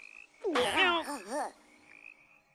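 Frogs in a swamp give a loud, wavering, throaty croak lasting about a second, followed by quieter chirps and near silence.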